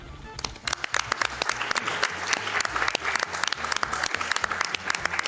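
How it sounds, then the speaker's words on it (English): Live audience applause at a speedrun marathon event, a dense, steady wash of clapping from a large crowd that holds for several seconds at close range. "Can we get a round of applause for this great run?"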